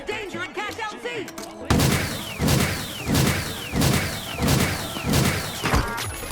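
Grenade launcher fire in the game THE FINALS, a string of about five loud explosive blasts at a steady rhythm, each with a crashing tail, after a brief stretch of voices at the start.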